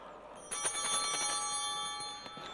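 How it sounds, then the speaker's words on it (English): Altar bells at Mass rung once, a bright cluster of ringing tones that starts sharply and holds a shimmering sustain before slowly fading, close and clear with no talking. "you ring the bells once"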